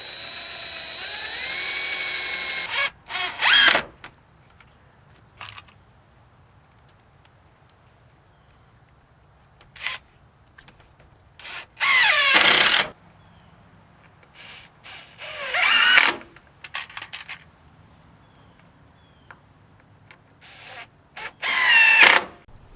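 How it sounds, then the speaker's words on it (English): Several short bursts of a whining power drill boring a hole in wood, each lasting a second or so, separated by quiet pauses with faint background noise. "We'll just drill a new hole"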